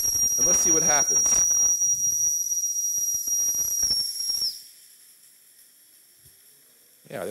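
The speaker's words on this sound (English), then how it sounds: "now I'm going to run this steam through a device called the turbine." Steam forced through a small tabletop steam turbine gives a sharp, steady high whistle with hiss that runs under a speaking voice for about four seconds, then stops and leaves near silence.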